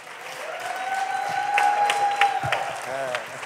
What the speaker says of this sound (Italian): Senti l'applauso!